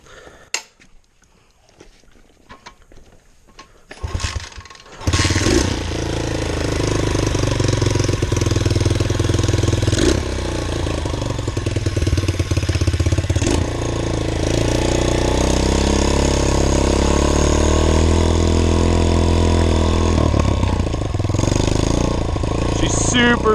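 A $50 pit bike's small engine on its first ride: quiet handling noises and a few clicks, then the motor fires up and runs loud and steady close by with a buzzing drone and shifting revs through to the end.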